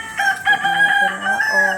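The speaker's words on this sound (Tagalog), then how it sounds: "ingay ng mga manok" A rooster crows loudly and close by in the morning in the rural countryside, one long drawn-out cock-a-doodle-doo with a rising and falling pitch.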